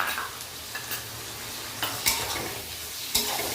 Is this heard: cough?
no